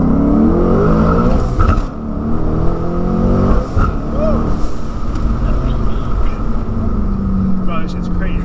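A twin turbo Mustang accelerating hard in first gear, a loud steady engine roar with rising drone and some spin, heard up close from inside the car with voices talking over it.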